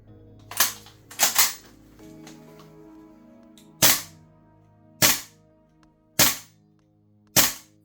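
A VFC FNC airsoft gas blowback rifle fires six crisp, sharp single shots at uneven intervals, with a quick double shot near the start and a few spaced shots afterward, each loud and close against a quiet background.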